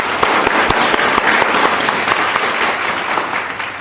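Loud, dense applause from an audience at a book presentation, a thick continuous roar of clapping close by, sustained at full strength throughout with no speech over it.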